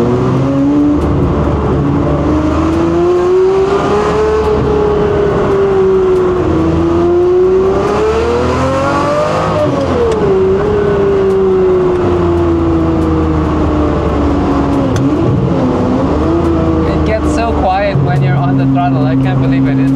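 A car's engine revs loud and close on a test drive, its pitch rising and falling smoothly through repeated swells, with the note dropping and settling toward the end and no talk over it.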